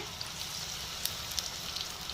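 Battered green chillies fry in hot oil for mirchi bajji with a steady close sizzle and a few faint pops and crackles scattered through it.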